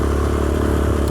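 Old Yamaha Raptor 350 four-stroke quad engine running steadily, a close, loud, continuous low rumble with a dense throbbing beat and slight clatter, no voices over it.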